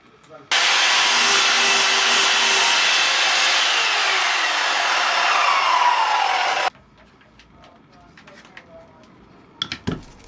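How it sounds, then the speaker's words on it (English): A power saw cuts through pallet wood boards close by, a loud, steady buzzing rasp lasting about six seconds before stopping abruptly, followed by quiet handling knocks and a few sharp clicks. "I then marked up the bottom pieces and cut these to fit."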